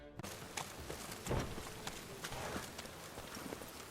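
Horse hooves clip-clopping at a quick, even pace on a road in The Witcher 3, faint and steady with a slightly louder beat near the middle, no speech.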